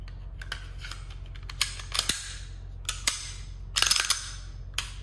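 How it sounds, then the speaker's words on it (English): A Sig P365 pistol fitted with a Grayguns compensator is put back together, giving a scattered series of sharp metallic clicks and snaps over a low steady hum, with a cluster of quick clacks near the end. "So I'll go ahead and throw the whole gun back together so you can sort of see what it looks like."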